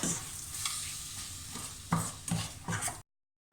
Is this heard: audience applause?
no